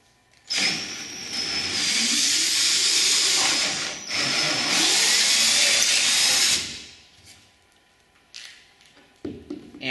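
A power drill whines steadily for about six seconds while drilling a bolt hole in an Affordaplane ultralight aircraft build, pausing briefly in the middle, then falls silent before a few light knocks.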